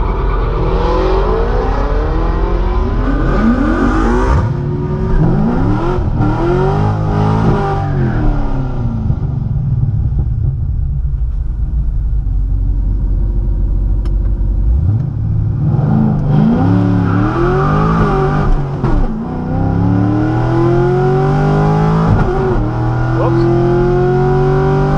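A modified Corvette launches down a drag strip, its loud engine revving and climbing hard through the gears in two long, sweeping pulls, with a short lull between them.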